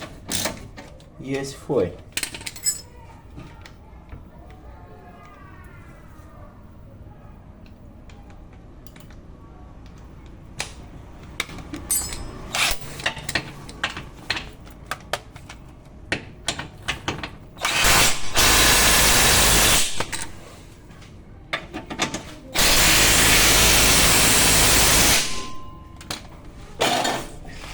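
A socket wrench works the suspension bolts on a 2014 Ford New Fiesta, giving scattered ratcheting clicks and metallic clinks interrupted by two long, loud bursts of broadband noise, with brief speech nearby.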